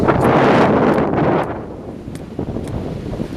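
Strong gusting wind roars loudly near a boat on a cold, stormy day, with broadband rushing that is heaviest at first and then eases into a lower steady blow with occasional brief gusts and rustles.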